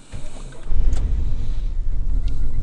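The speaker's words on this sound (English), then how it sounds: "I'm going to start it up" A truck engine cranks and catches, then settles into a low, steady idle rumble that stays loud and close, with a brief mechanical squeak near the start and no voices.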